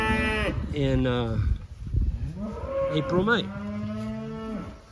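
Beef cows in a cow-calf herd with newborn calves and heifers moo loudly and repeatedly at close range, long drawn-out calls overlapping, while someone talks briefly.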